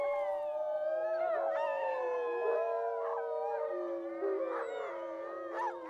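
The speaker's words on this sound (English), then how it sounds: "The farmer must play the recorded rival wolf howls every day" Recorded rival wolf howls played outdoors through a loudspeaker and dish toward a forest: several overlapping long, wavering howls with rising and falling pitch, loud and sustained throughout, no voices.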